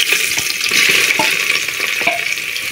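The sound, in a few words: finely chopped onions frying in hot oil in cooker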